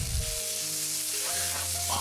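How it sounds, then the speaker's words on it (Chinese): Yellow Chinese chives stir-fried in a hot pan, a short burst of loud frying sizzle that settles into a steady hiss over a low background hum. "我哋将啲韭黄又怼落去爆下佢先"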